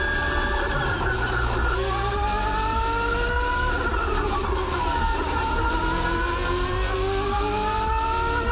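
A race car engine at the Pikes Peak hill climb roars and revs continuously as the car launches, its pitch rising and falling in long sweeping tones, loud and close, with no talk.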